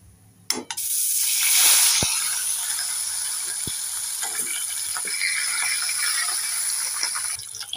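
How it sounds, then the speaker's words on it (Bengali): Pieces of rohu fish fry in hot oil for a mustard rui curry. A thump is followed by a loud, steady sizzle that stays bright and even, with a couple of faint clicks and no talking. "আবারও দু পিস আছে, ওইগুলোকেও ভেজে নেব।"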